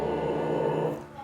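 A dog growls continuously at close range, a low rough rumble held for just over a second with no bark breaking through, loud and steady before easing slightly at the end.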